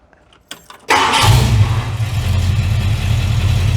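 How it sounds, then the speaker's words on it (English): A hot rod's engine cranks briefly, then catches and roars to life, settling into a loud, rumbling idle close by; a few faint clicks precede the start. "So if we fire the car up"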